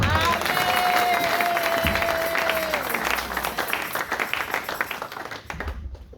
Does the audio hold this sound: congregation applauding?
yes